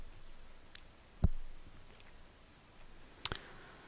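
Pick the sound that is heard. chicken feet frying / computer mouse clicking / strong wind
computer mouse clicking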